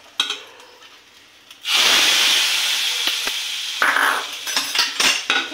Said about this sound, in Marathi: ही फोडणी आता आपण या उसळीवर